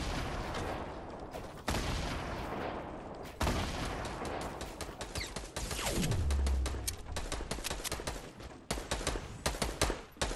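Rapid bursts of gunfire crackle in a Fortnite battle royale match, with dense automatic volleys broken by brief pauses and one descending whoosh midway, loud and close without talk.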